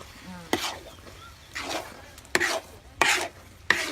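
A pot of fish sauce mixture is stirred with a utensil in a series of five scraping strokes, spaced unevenly, each a brief rasping swish close by.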